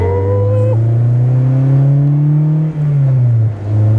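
Honda S2000 with an aftermarket exhaust, a steady droning engine note while driving, rising and falling gently as the car moves, close and loud with no talking.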